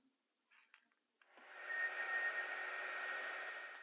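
A heat gun blowing to shrink black heat shrink tubing over soldered wires for a model railroad building, starting after a few brief handling noises and then a steady loud rushing hiss with a faint whine.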